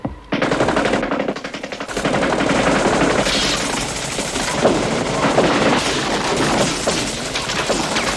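Sustained automatic gunfire rattles loud and continuous through a scene from the action film Escape from the Bronx, heavy bursts punctuated by sharper impacts and crashes as shots tear through a wall.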